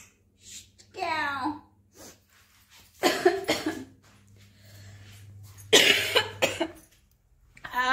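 Several harsh, wet coughs in short bursts, close up, separated by pauses with breathing and a low hum underneath.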